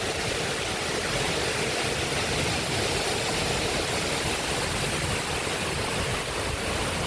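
Water released through a dam barrage on the Uhl River, roaring steadily as a loud, continuous broadband rush with no pauses, close by and with no talk over it.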